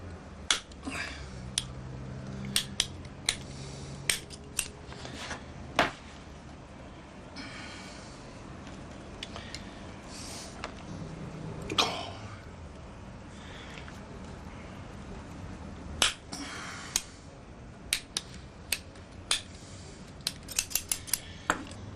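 Scissors snip away excess cover material at the joint of a springback book binding, a run of crisp, close cuts in irregular bursts over a quiet background.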